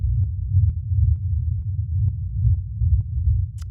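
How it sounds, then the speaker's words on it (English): A deep techno bass kick drum pulses in a steady, boomy low rumble that throbs continuously, with faint ticks above it and no voices. "So then the next thing we have here is this bass kick"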